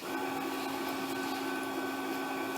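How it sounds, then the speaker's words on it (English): A Brother SE-400 sewing machine winds a bobbin with a steady, continuous motor whir and hum, close and unbroken, with no talking. "So let's go ahead and keep filling our bobbin."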